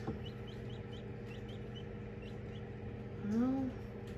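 Newly hatched chicks give a few faint, high peeps from an incubator, soft and scattered over a steady background hum, with one brief lower call near the end.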